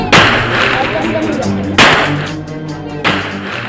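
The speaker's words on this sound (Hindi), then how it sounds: "कभी राइफल गोलियां उगल रहा है" Rifle shots fired in quick bursts at a housewarming ceremony, three sharp loud cracks about a second and a half apart, each trailing into a rumbling echo over a noisy crowd.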